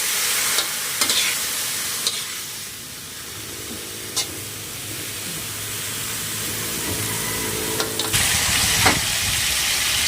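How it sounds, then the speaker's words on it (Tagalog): Steady sizzling and hissing of fish frying in a pan for escabeche, with occasional clinks and stirring sounds, no talking. "ako nagpiprito na rin po ng isda na ating ipang sasahog"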